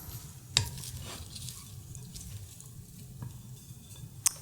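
Cooked kimchi dumpling filling being stirred in a bowl, with soft wet scraping and occasional sharp clinks of a utensil against the bowl over a low steady background hum.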